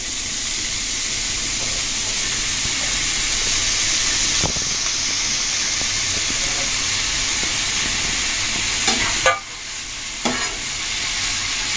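Carrot and potato are stirred in hot oil in a pan, giving a loud, continuous frying hiss with a few sharp utensil clinks and scrapes near the end.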